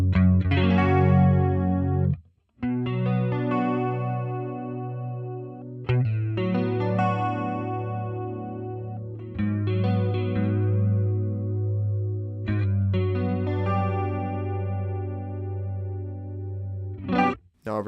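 A chorus effect from a Line 6 Helix guitar processor shimmers over a thick, distorted guitar, with sustained chords swelling and wavering in a steady modulated pulse, interrupted by a few brief pauses between phrases, loud and alone.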